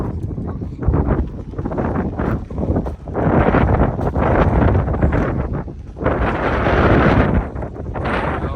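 Heavy wind buffeting the microphone in loud, rumbling gusts that rise and fall, with no talking.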